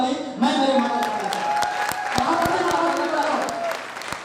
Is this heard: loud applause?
yes